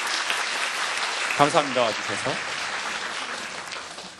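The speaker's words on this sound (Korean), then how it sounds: "박수 한번 주세요." An audience at a lecture show applauds, a steady patter of clapping throughout, with a voice speaking briefly over it midway.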